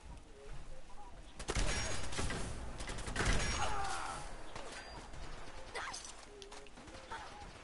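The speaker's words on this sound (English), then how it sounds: "Hey, what the hell are you shooting?" Gunfire in Fallout 4 crackles in quick bursts of shots with mechanical clatter, fairly faint and set against background game ambience.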